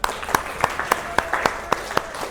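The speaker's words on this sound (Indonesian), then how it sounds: "Oke, tepuk tangan." A classroom of students applauds briefly, with scattered individual hand claps standing out over a soft, steady patter of clapping at moderate volume.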